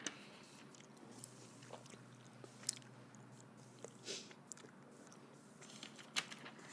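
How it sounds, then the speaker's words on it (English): Gum chewing close up, soft wet smacks and clicks scattered irregularly over a faint steady hum, quiet and intimate, with no talking. "This gum is so weird, it melted in my mouth."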